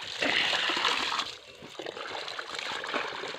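Water splashes and sloshes steadily up close as laundry is washed by hand with plenty of water, continuous for a few seconds with faint background noise.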